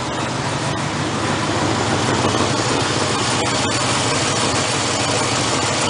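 An old 1965 Mercury truck engine runs on cold, months-old fuel, a loud steady rough idle with a constant low rumble and faint ticking, close up with no talk.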